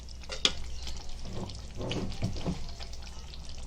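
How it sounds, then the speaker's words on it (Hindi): A spoon knocks and scrapes in a pan of Konkani-style dried fish curry, with a sharp tap near the start and soft stirring scrapes over a low, close sizzle, and no talk. "एक बार हमने चम्मच मारे, ये देखो आस्ते से चम्मच मारने का"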